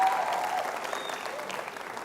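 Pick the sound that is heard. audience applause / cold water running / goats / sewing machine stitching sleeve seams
audience applause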